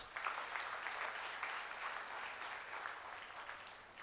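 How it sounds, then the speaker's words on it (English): Audience applause at a felicitation programme honouring an alumnus of St. Aloysius, a steady, fairly faint wash of clapping from a room full of people, even and sustained throughout with no voices over it. "Shall we have a big round of applause?"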